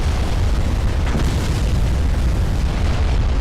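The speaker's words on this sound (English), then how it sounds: "God, I love the flash fires" Warship turrets blasted off by a flash fire explosion in Ultimate Admiral Dreadnoughts: a loud, sustained roaring boom that fills the sound with dense, broadband rumble throughout, heavy in the low end, with no pauses.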